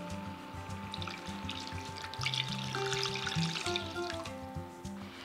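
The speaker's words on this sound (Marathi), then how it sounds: "यामध्ये घालूयात पाणी" Water is poured into a pan of sautéed peas for matar usal, a close gushing, splashing pour over continuing sizzle, swelling midway and then easing, with no one talking.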